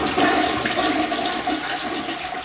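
A household toilet flushes close by, a loud steady rush and gurgle of water that fills the whole moment with no talking.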